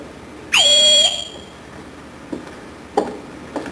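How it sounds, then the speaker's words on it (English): A sharp whistle sounds once in a large house, blown to call the household together: a loud, piercing blast that rises and falls, followed by a few faint clicks and steps. "Everyone in this house answers to a whistle."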